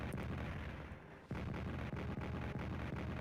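Artillery fire in the World War 1 strategy game Strategic Command: a dense, continuous rumble of booms with sharp blasts punching through after a brief dip, loud and with no talking.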